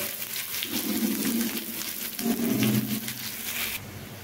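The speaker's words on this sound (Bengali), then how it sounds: "এবার এখানে আমি আমার কুচিয়ে রাখা পেঁয়াজগুলোকে দিয়ে নিচ্ছি।" Chopped onions hitting hot oil in a pan while cooking a green plantain curry, giving a steady, fairly loud sizzle and crackle that swells twice and then eases off.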